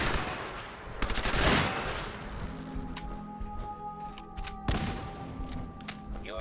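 Gunfire in Fallout 4 in a hostile firefight: a burst of rapid automatic shots early on, then scattered single cracks and one sharper shot near the end, over a steady low hum.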